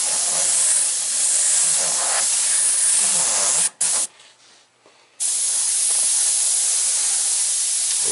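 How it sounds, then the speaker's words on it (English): An airbrush sprays paint in a continuous close hiss that cuts out abruptly for about a second, sputters softly, then resumes at full strength. "I know it's hard to see when I'm airbrushing."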